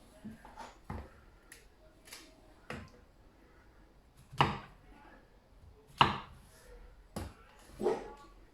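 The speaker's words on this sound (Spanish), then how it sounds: "Pues así voy a cortar 4 champiñones por persona." A knife chops mushrooms on a board while preparing pork tenderloin in mushroom sauce: sharp, irregular chops, some crisp and loud and others softer, separated by short quiet gaps.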